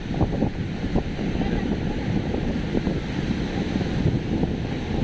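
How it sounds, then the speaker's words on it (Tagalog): Sea waves washing onto the shore with a steady surf roar, mixed with wind buffeting the microphone. "Ayan yung dagat."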